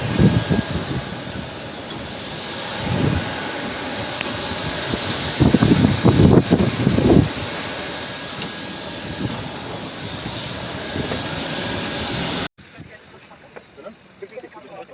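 An airplane jet engine in flight drones steadily from inside the cabin, with passengers talking over it. The noise cuts off abruptly near the end.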